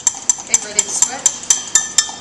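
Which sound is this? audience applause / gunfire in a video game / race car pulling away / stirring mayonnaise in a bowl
stirring mayonnaise in a bowl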